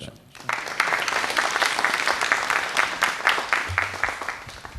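Audience applause at a PTV Mehfil-e-Shab music evening, a sustained burst of clapping that starts abruptly after a brief quiet moment and holds steady, with a faint voice underneath.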